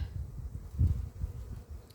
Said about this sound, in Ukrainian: Водичку п'ють, пчолки водичку п'ють, трудяться.